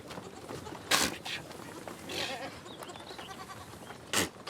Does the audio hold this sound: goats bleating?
yes